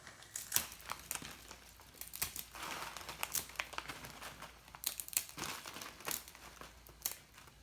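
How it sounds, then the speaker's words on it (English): Two packages of dry ramen noodles are crushed inside a Ziploc bag, making a steady run of crackling, crinkling snaps and plastic rustles that are fairly soft and close, with no voices. "I'm going to use 2 packages of the ramen noodles and I'm just going to break them up"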